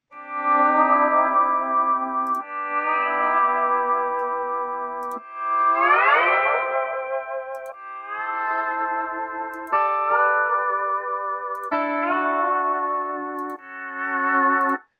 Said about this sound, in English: I can just filter by pedal steel because he has the right sounds I'm looking for